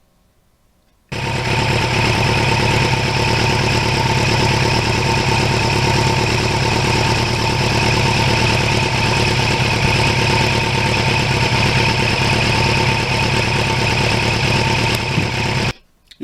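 A 1989 Kawasaki Ninja GPX750R motorcycle engine idles steadily and loudly from start to finish, a constant low rumble with a slight clatter, no voices.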